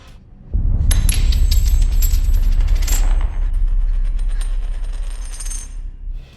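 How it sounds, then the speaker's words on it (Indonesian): A coin drops at night in a Conjuring horror film scene, a loud, bright metallic clatter and ringing jingle that sustains for several seconds before slowly fading, with no talk. "menggunakan koin jatuh di malam hari untuk memaksa babysitter Mary Ellen untuk menyelidiki suara dengan senter"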